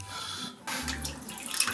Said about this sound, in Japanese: じゃあ一回お湯捨てて、